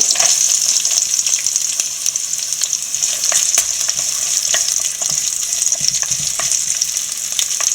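Green chilli and ginger fry in hot oil for a pickle, giving a steady close sizzle with scattered crackles and the clicks and scrapes of stirring, no voices.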